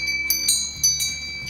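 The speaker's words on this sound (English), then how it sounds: "And then it had these very unique bells." Small decorative bells on a pine holiday wreath jingle with bright metallic rings, a few separate shakes close by and fairly soft, ringing out briefly against a quiet background.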